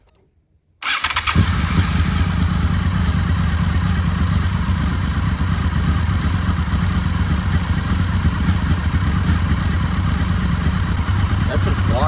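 A Honda VFR800 motorcycle with gear-driven cams, unstarted for eight years, cranks and fires up after a brief silence, then runs steadily at a loud, close idle with clattery mechanical whine; no speech over it.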